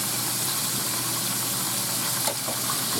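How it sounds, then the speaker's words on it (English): Chicken fried steak frying in hot oil in a skillet gives a steady, dense hiss and crackle throughout, with one brief louder pop near the end. "Now, do you hear it sizzling?"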